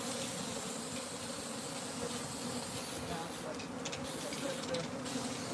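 A big honeybee hive inside a horse stall, with tens of thousands of bees buzzing in a steady, dense drone that fills the whole stretch, some nearer swells of buzzing passing close by.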